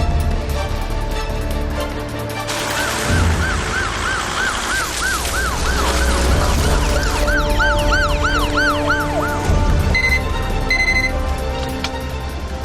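A loud ambulance siren wails in a repeating rising and falling pattern, joined by overlapping siren tones and continuing close and prominent for most of the stretch, with no talk over it.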